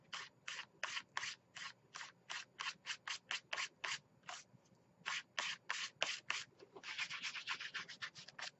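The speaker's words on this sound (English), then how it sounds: "I'm just going to take my hands, my fingers, and just gently rub off the loose bits" Fingertips rubbing loose bits off a glued art journal page, a close series of rhythmic scratchy strokes with short gaps, quickening into a fast flurry near the end.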